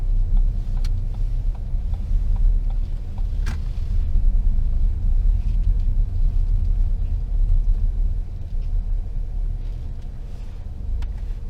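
A car rumbles steadily at low speed throughout while a learner driver pulls over to park on the right, the engine note close and even with a few light clicks and knocks over it.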